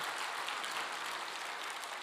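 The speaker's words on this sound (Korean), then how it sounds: "박수 한번 쳐보세요." Congregation applauding during a Korean Sunday church service, a steady, fairly quiet wash of many hands clapping together with no talk over it.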